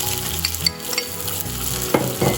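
Onion fries with garlic in hot cooking oil, a close, steady sizzle broken by a few stirring scrapes and clicks, with no talking.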